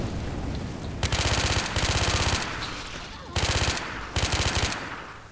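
Gunfire in the Left 4 Dead 2 zombie shooter game, several rapid automatic bursts in quick succession separated by short gaps, loud and close against a low game background.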